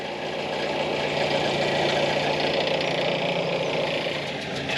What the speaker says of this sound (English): Engine's really quiet.